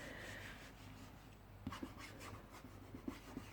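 Soft, steady rubbing of a cloth spreading gel stain over a wooden surface, quiet and close, with a few light taps and scuffs along the way.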